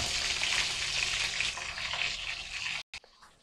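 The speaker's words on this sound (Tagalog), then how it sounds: "habang nagpiprito ako ng manok" Dense, steady sizzling and crackling of chicken frying in hot oil, close and continuous, cut off briefly near the end.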